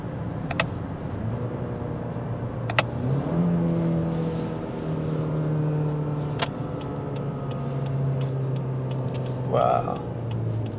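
Lexus ES engine drones steadily from inside the cabin, its pitch climbing and dropping as gears are shifted manually, with a few clicks and a voice speaking briefly near the end.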